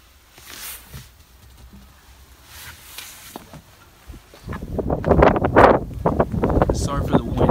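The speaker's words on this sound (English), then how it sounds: "Sorry for the wind, it's a little windy today." Low rumbling wind buffets the microphone outdoors beside a 2019 RAM 2500 Laramie Longhorn pickup throughout, growing heavier and gustier in the second half, with no clear talk over it.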